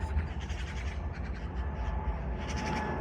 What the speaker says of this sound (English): These birds, these loud bastards.